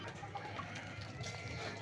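Racing pigeons coo softly in the background, faint and continuous amid a steady murmur of ambient noise.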